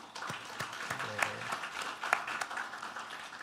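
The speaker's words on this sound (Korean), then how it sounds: "우리 박수로 환영하겠습니다" A church congregation claps in welcome for a former National Assembly member attending a Sunday worship service; the applause is moderate and steady, with a few louder claps standing out and faint voices mixed in.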